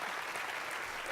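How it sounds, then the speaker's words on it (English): A City Club audience gives dense, continuous applause for Senator Bernie Sanders, faint and even in a brief burst with no talk. "Let's give the senator another round of applause."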